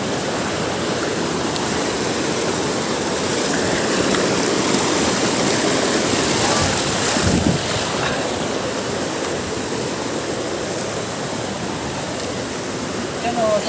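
A forest waterfall feeding a flowing stream gives off a steady, full rush of water that holds at a constant level from start to finish. It is close and loud, and a faint voice may sit underneath it.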